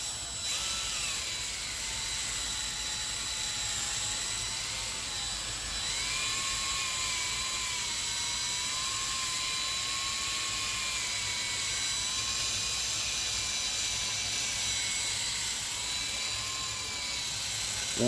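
A polishing machine spinning compound on a car wheel of a pearl white Volvo XC40, a steady high-pitched whine whose pitch shifts slightly as the speed changes, continuous and close with no talk.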